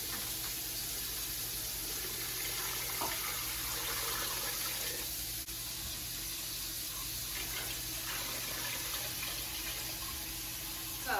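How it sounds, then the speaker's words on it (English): Water from a tap runs steadily into a pot over two ham hocks, a continuous hissing splash that holds at an even level for the whole stretch, close and unbroken. "we're going to fill this up with water"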